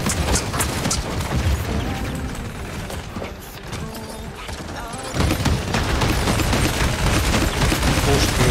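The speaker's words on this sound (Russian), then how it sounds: "Пушки, убейте эти чертовы пушки." Cannon fire in the team shooter game Paladins comes as a dense, loud barrage of booms and blasts, easing briefly midway before surging again.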